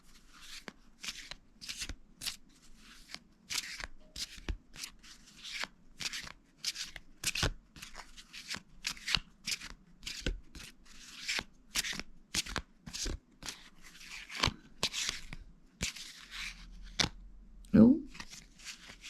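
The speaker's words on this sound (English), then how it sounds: "There's a lot of cards coming out here." A deck of cards is shuffled and handled during a card reading, with repeated short riffling bursts spread across the stretch, close and moderately loud, with faint background hum.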